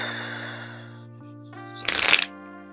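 Tarot cards shuffled in a short, sharp burst of riffling and clattering near the end, over a soft background of sustained musical tones.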